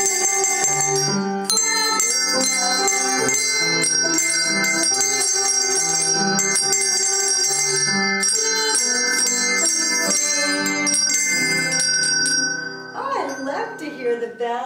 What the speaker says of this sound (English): we want to ring our bells this morning as we begin our Sabbath school